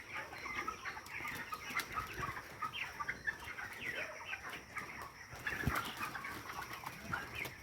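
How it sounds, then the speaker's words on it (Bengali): White chickens in a poultry shed cluck and chatter in a busy, moderately close flock, many overlapping short calls over a low background murmur. "এই যে মুরগি দেখুন"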